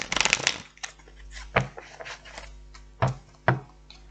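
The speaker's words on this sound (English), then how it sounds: "One more shuffle." A deck of cards is riffled quickly at the start, then a few sharp taps and card snaps follow at irregular intervals, close by.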